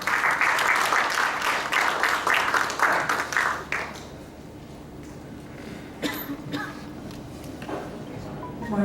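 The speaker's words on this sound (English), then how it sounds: "a round of applause to Dr. Leticia E." Forum audience at a crocodile conference welcome applauds a speaker, a burst of dense clapping for about four seconds that then drops to scattered claps and faint room noise with a few thumps.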